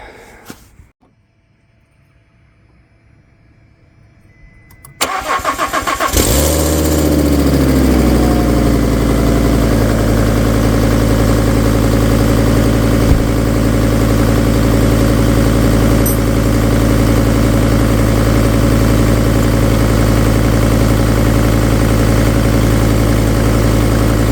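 Cold start of a Fiat-based car engine after a rebuild, with a few quiet seconds before the starter cranks briefly, the engine catching and settling into a loud, steady idle close by.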